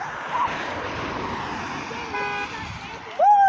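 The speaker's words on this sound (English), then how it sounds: "He honked. He honked. That counts." A car horn gives a short honk amid passing roadway traffic noise, a brief tonal blast near the end of the clip over a steady background of vehicles.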